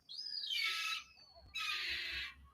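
A small bird gives two loud, harsh, raspy calls close by, each lasting about a second with a short gap between them, with no one talking.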